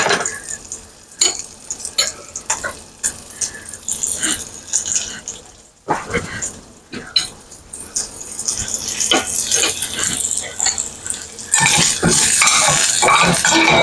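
Food browning in a frying pan over a gas flame for a green bean side dish, with steady sizzling, scraping stirs and clanks of utensil on pan, close and busy, turning louder and denser near the end.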